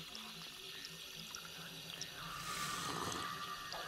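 Water pours in the video game Costume Quest 2, a short liquid splashing and trickling that swells briefly and then fades.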